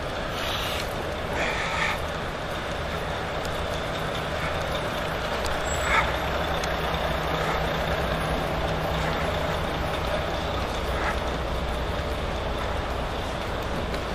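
A riot bus and a grey communication van idle on a city street corner during a night protest, a steady low engine drone and rumble with faint hissing bursts and distant clanks throughout.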